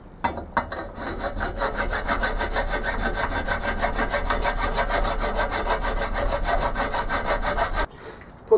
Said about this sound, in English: I'm just going to start filing this down a bit,